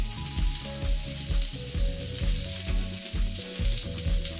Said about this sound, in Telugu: ఇప్పుడు ఆయిల్ హీట్ ఎక్కిపోయింది. ఇప్పుడు ఆనియన్స్ వేసుకుంటున్నాను.